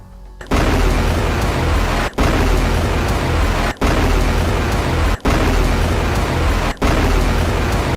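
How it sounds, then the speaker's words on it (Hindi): A Hezbollah rocket barrage fired at a base in northern Israel gives a loud, continuous roaring rush in several long bursts broken by brief gaps. "इसके बाद मिशहर बेस पर रॉकेटों का जत्था फायर किया गया।"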